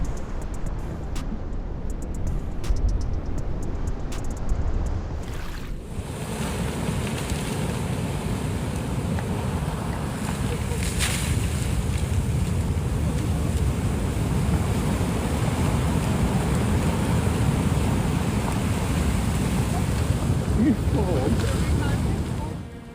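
Raging ocean waves batter a ship at sea, a loud, continuous broadband roar of surging water and gusting wind that swells and churns throughout.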